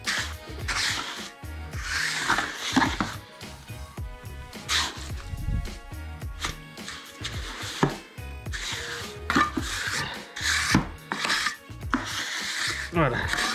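A steel trowel scrapes and pats wet mortar as it is levelled and packed into a coping mould, giving repeated rough strokes and taps while someone talks over them.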